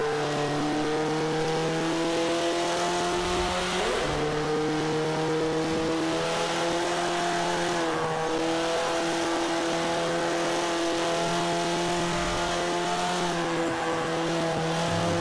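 A B-class race car in Forza 5 revs and accelerates loudly, its engine tone climbing through gears with brief dips at shifts and faint tire squeal, continuous and close.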